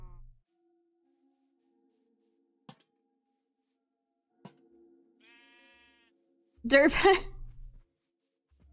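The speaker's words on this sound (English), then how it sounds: "There's a sheep around." A sheep bleats in a modded Minecraft survival world, one short wavering call in the middle, followed by a louder burst near the end. Someone speaks briefly.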